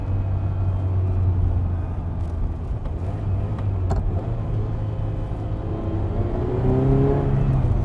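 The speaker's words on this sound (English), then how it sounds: "What a fabulous noise. You know what that is? That's the Italian national anthem, that's what that is. Good old V8." Ferrari 328 GTB V8 engine, close and steady at a low drone before the revs climb toward the end, with a whirring mechanical edge.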